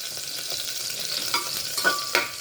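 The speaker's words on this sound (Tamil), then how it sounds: "இதை சும்மா அப்படி வதக்கி விட்டுடலாம்." Green chillies and ginger being sautéed in a pan, giving a steady close sizzle with occasional stirring scrapes throughout and no talking.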